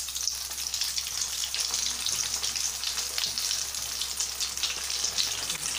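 Chicken pieces deep-frying in plenty of hot oil for KFC-style crispy chicken, a loud, dense, continuous bubbling sizzle held steady throughout.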